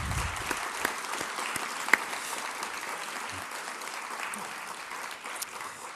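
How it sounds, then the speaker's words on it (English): Audience applause for Basil, a campaigner against human trafficking, at a public event: a steady, dense round of clapping that fills the whole stretch at moderate volume, with a few sharper individual claps standing out. "let's give Basil a big round of applause"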